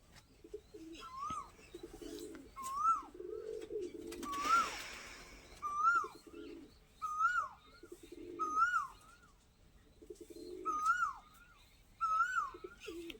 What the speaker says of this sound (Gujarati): નિહાળો ઘડીક આપણે આ કબૂતર ભાઈ